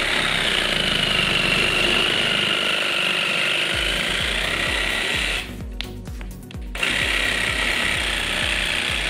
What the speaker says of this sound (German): das wird dann einfach dann weggesägt